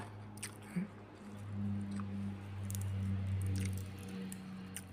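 Someone chews crunchy fresh raw vegetables served with grilled catfish larb, producing soft wet crunching and squishing close to the mouth over a faint steady hum, with no speech.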